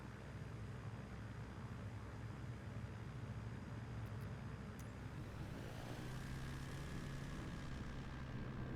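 Steady, droning engine noise from a Norden Savage bush plane climbing after takeoff in Microsoft Flight Simulator 2024, a continuous low hum with a rising tone near the end, faint and unbroken, no talk.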